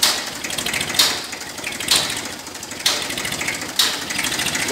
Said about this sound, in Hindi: दोस्तों, आवाज़ बहुत बढ़िया है ट्रैक्टर की, कोई भी दिक्कत नहीं है, बस बंद कर देंगे।